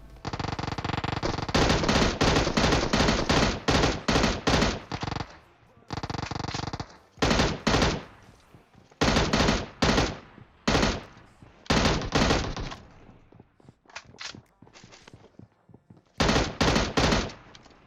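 Bursts of M16 automatic rifle fire in the mobile battle-royale game PUBG Mobile, loud and close, coming in repeated rapid volleys separated by short pauses, with no talk over them.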